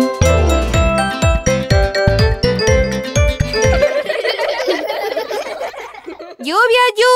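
A cheerful run of bright doorbell chimes, "din, din, din," rings out rhythmically over bouncy children's song music, with a voice joining near the end.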